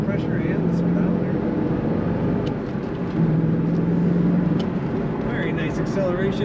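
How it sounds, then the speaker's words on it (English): A 2003 Chevrolet Corvette 50th Anniversary convertible accelerates, heard from inside as a steady engine drone that swells slightly partway through, with light road and cabin noise around it. "Very nice acceleration, as you would expect from a Corvette."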